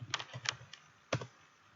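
A handful of light computer keyboard keystrokes, quick clustered taps followed by a pause and one more pair, soft and close with no talking.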